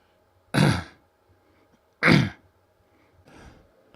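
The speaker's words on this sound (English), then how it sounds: "Had a bit of a coughing session there" Three sharp coughs close by from a person recovering from lung surgery, the first two loud and a second and a half apart, the third softer, with quiet pauses between.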